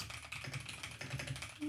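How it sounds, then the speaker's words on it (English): Typing on a computer keyboard, a quick irregular run of soft key clicks close to the microphone, faint and continuous for a brief stretch with no talking. "This is me typing it in because I can't easily copy paste from that window."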